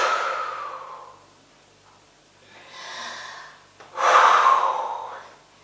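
Heavy breaths during an upper-body strength workout arrive as a forceful exhale, a quieter intake and then a stronger huffing breath out, close and unaccompanied by talk.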